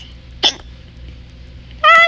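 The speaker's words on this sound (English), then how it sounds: "I'm really sorry about the hiccups" Two short hiccups from a player during a Minecraft Skywars match, a brief one near the start and a louder, sharper one at the end, separated by quiet game background.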